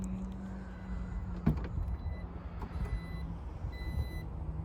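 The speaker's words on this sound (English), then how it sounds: "Trunk is fully automatic." Power liftgate on a metallic-flake 2020 Jeep Grand Cherokee with a tow package, running with steady electronic warning beeps over a low motor hum, plus a brief sharp clunk near the start and no talking.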